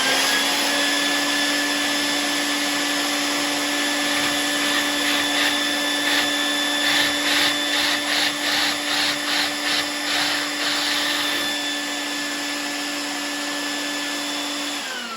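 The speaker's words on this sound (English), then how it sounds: "And I'll turn my vacuum on." A shop vacuum attached to a Kreg pocket hole jig runs steadily and loudly throughout, a constant motorized whine, with a burst of rapid mechanical rattling mixed in through the middle.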